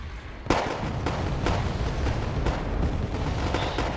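Mortar fire and explosions in the strategy video game Wargame AirLand Battle sound as a series of dull booms and thuds at roughly one-second intervals over a steady rumbling battlefield backdrop.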